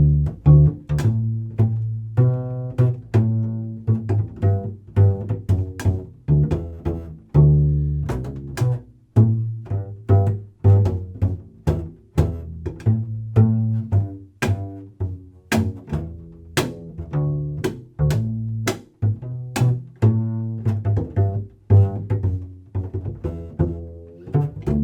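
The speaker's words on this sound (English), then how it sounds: "Plucking the strings with your fingers is called pizzicato." Deep pizzicato double bass notes plucked with the fingers, each one booming and then fading, in a walking line of varied pitches with short pauses.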